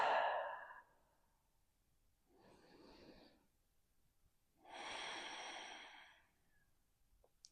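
Slow, deep breaths during foam rolling: a sharp exhale, then a softer inhale, then a long airy exhale, close and clear with quiet pauses between and no talking.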